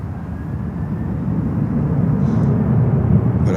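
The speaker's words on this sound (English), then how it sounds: "Next inbound, American Airlines flight 2706 coming in from Havana in Cuba." An American Airlines airliner arriving at Miami airport from Havana produces a loud, continuous low jet-engine roar that swells gradually as it approaches, with no voices over it.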